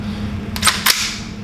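A magazine being seated into a 5150 demo rifle fitted with a side charger, heard as two sharp metallic clacks in quick succession, close and loud, without speech.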